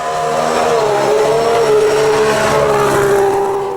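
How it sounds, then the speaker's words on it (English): A 2015 McLaren Honda Formula 1 car's engine drones loudly and steadily at close range as it rolls out of a garage during pre-season testing at Jerez, its harmonic tone wavering slightly with small throttle changes. "Plenty of interest as Fernando Alonso drove the McLaren Honda out of the garage"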